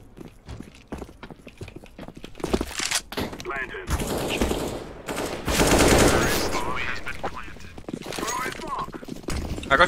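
Covering gunfire in a first-person shooter match, rapid bursts of shots crackling loud and close, overlapping with excited players talking.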